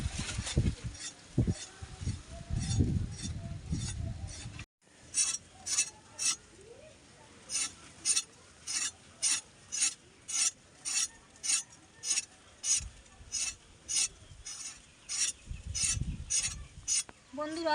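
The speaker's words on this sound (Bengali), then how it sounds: "পটলটা কিন্তু বটির সঙ্গে ঘষে ঘষে আঁচড়ে নিতে হবে" Pointed gourd (potol) rubbed and scraped against a boti blade, a crisp rhythmic scratching repeated in even strokes, close and clear, with a few softer handling knocks at the start.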